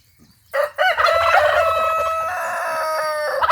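Rooster on a farm with chickens, ducks and turkeys crowing a loud, drawn-out call nearby, rising and held for about three seconds, with faint clucking beneath and no talk.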